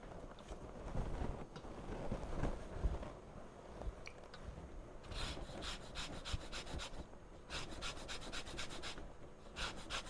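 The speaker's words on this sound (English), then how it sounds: "Next thing is the zest and quarter the lemon." A lemon is zested in a home kitchen with quiet, close rasping strokes, first uneven and then settling into two quick rhythmic bursts of scraping, with no talk.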